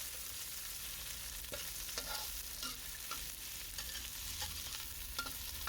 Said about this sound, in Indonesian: Masukkan bawang bombay, ditumis sampai harum.